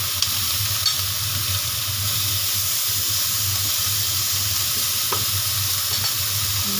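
Chili sizzling and being stirred in a hot pan while cooking a pork rib stew, a steady close frying hiss with faint scraping of the stirring throughout.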